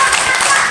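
Kindergarten children at a school recollection event do a rhythmic spirit clap together, a short burst of dense hand claps with voices mixed in.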